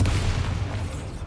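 The Bombarda spell in Hogwarts Legacy goes off as a loud, close, rumbling blast that fills the moment and slowly fades, heard alone.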